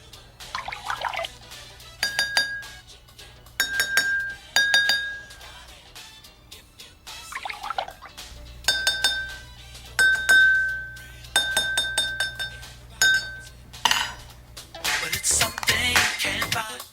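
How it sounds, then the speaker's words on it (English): Two drinking glasses are struck in turn with a little water poured in between, ringing clear sustained glass tones in repeated pairs of taps, with faint liquid trickles and a brighter splashy clatter at the end. "Repeat this process until both glasses are in tune or play the same pitch."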